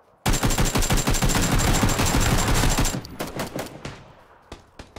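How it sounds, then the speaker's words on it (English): Rapid automatic gunfire from the video game PUBG rattles in a dense, loud burst of rounds lasting nearly three seconds, followed by scattered sharper single shots that thin out toward the end. "Shots. I'm getting shot."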